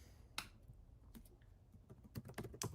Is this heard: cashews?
no